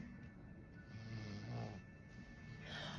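A child snores in the background of a room, a steady low rasping breath that swells and fades across a few seconds, faint and alone with no talk.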